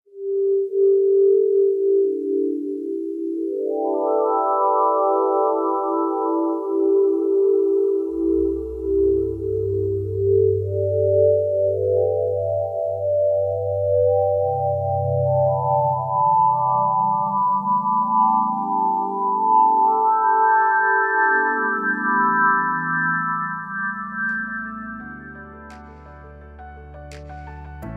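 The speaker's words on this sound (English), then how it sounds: "According to NASA, this is the sound of a supernova, the dying gasp of a star." NASA sonification of a supernova, a dying star: smooth synthetic sine-like tones glide and rise in layered harmonic lines over a low droning tone that swells and bends, steady and loud throughout with no voices.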